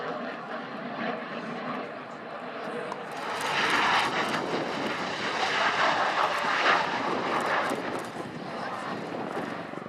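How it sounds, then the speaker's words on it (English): CV-22 Osprey tilt-rotor aircraft flying a display at the Royal International Air Tattoo airshow, a broad, steady roar that swells louder midway and holds, with faint crowd voices beneath. "This CV-22 Osprey tilt-rotor display was the first USAF flying display at a UK airshow in several years"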